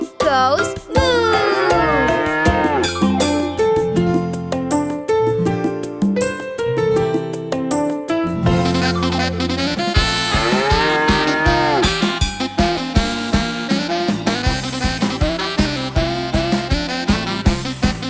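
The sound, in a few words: cow mooing in children's song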